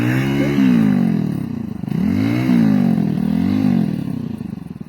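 A motorcycle engine revs up and down several times close by, rising and falling in pitch with a rattling clatter.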